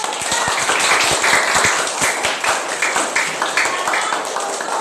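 A group of students in a classroom claps for another group, with quick, uneven hand claps that rise and fall in bursts over a few seconds.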